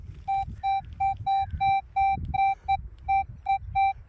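A Minelab Equinox 900 metal detector fitted with a big coil gives its two-tone target response: a loud, clean series of about a dozen short beeps repeating at a quick, slightly uneven rhythm, heard alone.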